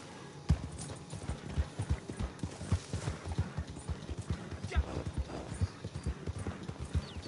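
Horse hooves clip-clop at a steady, quick walking pace, fairly close and clear, with brief snorting or whinny-like sounds mixed in and no speech over them.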